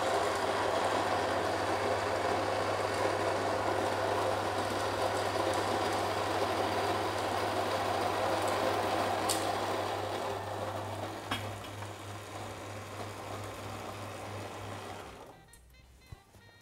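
Coffee grinder grinding beans for a Chemex brew, a steady dense whirring drone close up that runs on and then fades and stops near the end.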